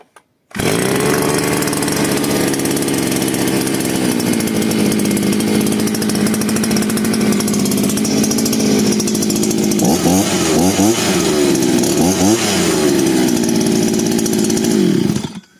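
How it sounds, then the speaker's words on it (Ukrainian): A Chinese 52 cc petrol brush cutter engine fires up and runs loud and steady close by for about fifteen seconds, with a rising and falling rev pattern near the end before it cuts off. "Заводиться теж непогано, зараз покажу."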